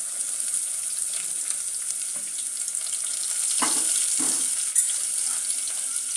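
Onion and tomato with chillies sizzle steadily in a pan, with a spoon stirring through them in a few louder scraping strokes near the middle; no voices.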